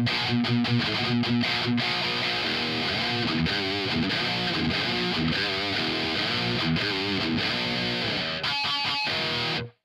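Heavily distorted electric guitar rhythm riffing through an EVH 5150iii 50W amp boosted by an MXR six-band EQ, with tight palm-muted chugs, sharp stops and sustained chords, loud and close, no voices.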